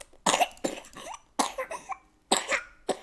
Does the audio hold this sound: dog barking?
no